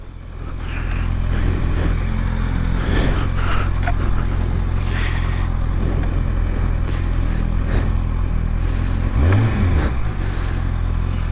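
A motorcycle rumbles steadily close by as it is ridden and turned around, its engine droning at an even pitch with a brief rising rev near the end.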